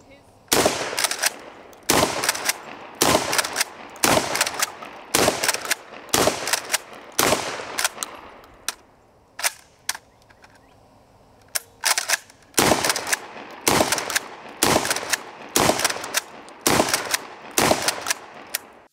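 Rapid strings of loud, close shotgun blasts from a Smith & Wesson M&P 12 pump shotgun at an outdoor range, fired in quick bursts with brief pauses between groups and no talking.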